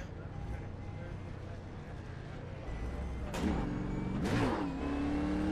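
A NASCAR stock car in the iRacing simulator on an oval at Atlanta holds a steady engine drone, then rises into two sharp revving surges near the end; someone talks over it.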